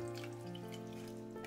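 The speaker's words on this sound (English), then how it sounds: "Okay, I transfer them to the cold water." Blanched daikon leaves are moved from boiling water into cold water, giving a faint, steady trickle and splash of water with a hum behind it.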